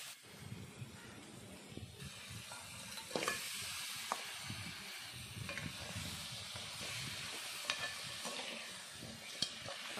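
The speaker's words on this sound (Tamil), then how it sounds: "இதை நல்லா எல்லாம் வதங்கினதுக்கப்புறம் நம்ம கட் பண்ணி வச்சுருக்க தக்காளியை இதில் சேர்த்துக்கலாம்." Crushed garlic and chopped tomatoes sautéing in a pan for crab curry, a steady sizzle with scraping stirs and occasional sharper hisses throughout, no talking.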